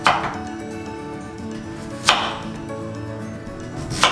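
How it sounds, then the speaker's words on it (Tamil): Knife chopping an ingredient into cubes on a board for anchovy dry fish curry, three sharp isolated cuts spaced about two seconds apart, close and moderately loud over a faint background hum. "ஸோ இதை ஒரு க்யூப்ஸ் கட் பண்ணி போட போடுறோம்."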